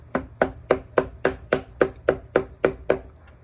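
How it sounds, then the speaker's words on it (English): A mallet strikes a part on a Honda Civic in steady, evenly spaced blows, about eleven sharp metallic whacks in quick rhythm, close and loud, with no talk. "Hammer till you see it move."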